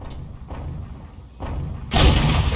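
A tank gun fires at a Panzer III in a World War II tank game, a few muffled thuds followed by one loud, sharp blast with a lingering rumble at the end.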